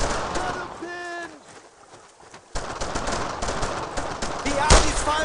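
Bursts of rifle and machine-gun fire from the World War II video game Brothers in Arms: Road to Hill 30 crackle continuously, with shouted voices mixed in and a louder close shot near the end.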